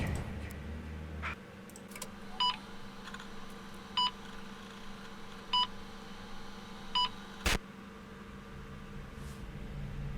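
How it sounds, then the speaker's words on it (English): A phone rings in the Friday the 13th video game, sounding as short, evenly spaced electronic ring bursts roughly every second and a half over a low, steady ambient hum. "The phone kept ringing."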